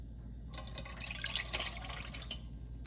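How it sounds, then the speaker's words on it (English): Oil and water being poured into a bowl of poppyseed cake batter, a quiet trickling and dripping stream that starts abruptly and runs for a couple of seconds before thinning out, with no one speaking. "I'm gonna go ahead and pour in my oil and get my water in."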